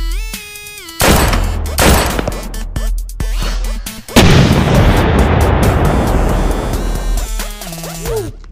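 Gunshots as a five-year-old shoots at a ball, with sharp, loud bangs ringing out in quick succession and a dense, noisy burst of firing in the middle of the clip.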